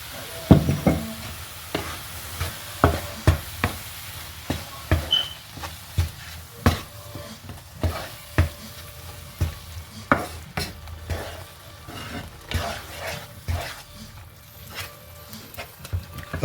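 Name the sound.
grated carrot with sugar and spices cooking in a pan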